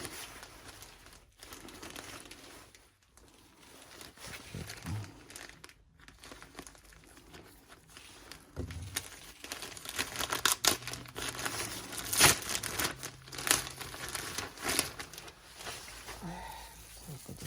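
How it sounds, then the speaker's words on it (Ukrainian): Plastic packaging of a mail parcel holding grape cuttings crinkles and rustles as it is torn open, with sharp crackling bursts and tearing that grow busier toward the end, close by. "Зараз відкриємо посилку, подивимося огляд матеріалу."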